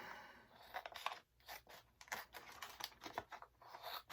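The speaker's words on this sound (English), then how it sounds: "I'm basically cutting the tearaway strip off the top of the Mylar" Scissors cutting the tearaway strip off the top of a Mylar ammo storage bag, a close series of crisp snips and crinkly plastic rustles, irregular and fairly quiet, with no voices.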